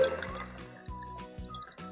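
Water is poured into a cooking pot in short bursts, with several quiet splashing, filling pours separated by brief gaps.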